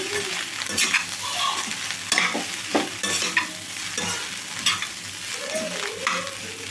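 Egg fried rice being stirred in a hot pan with soy sauce and vinegar, a steady sizzle broken by repeated scraping and clinking strokes of the spoon, close and fairly loud with no talking.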